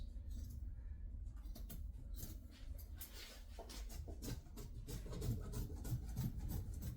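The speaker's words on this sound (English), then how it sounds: "So, let's just trim off some of this excess." Excess tartan fabric being trimmed on a reupholstered lounge chair, giving a steady close rasping, rubbing and scratching texture with repeated short cutting strokes throughout.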